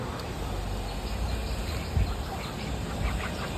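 Native ducks on a poultry farm quack faintly over a steady outdoor background hiss, a few short calls scattered through the stretch with one slightly louder burst midway.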